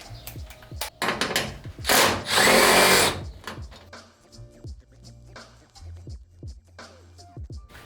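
Power tool short bursts of whirring and ratcheting while a radiator bracket is removed from a 240SX, with one longer, louder run in the middle and scattered clanks between bursts.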